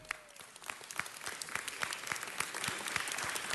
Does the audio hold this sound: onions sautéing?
no